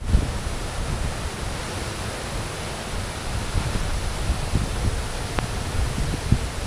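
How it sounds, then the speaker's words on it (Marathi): Ranpat waterfall in Ratnagiri district of Konkan, monsoon season, roars as a loud, steady broadband rush of falling water that stays unbroken throughout, with no voices. "धबधबा अप्रतिम सुंदर"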